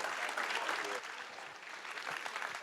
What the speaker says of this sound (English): Big round of applause, Senator Graham, Governor Kemp.